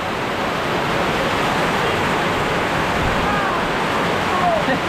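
Heavy typhoon rain driven by strong wind during a landfall in Bucana: a dense, steady, loud roar of downpour and gusts that holds unbroken throughout.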